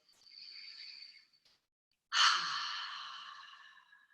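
Slow, deep breaths during a healing exercise with one hand under the left ribs: a soft, airy inhale, then a pause and a stronger, longer exhale that trails off, close and clear with no talking.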